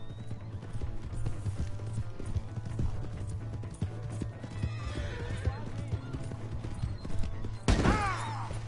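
A horse in the video game Red Dead Redemption 2 clip-clopping at a steady gait with a sharp loud whinny near the end, under game character speech and a steady low hum.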